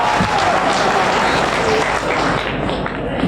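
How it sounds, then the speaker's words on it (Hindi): Audience applause at a Hindi poetry recital, a dense continuous wash of clapping sustained at steady loudness for a few seconds, with faint voices mixed in. "ताली बजाइए"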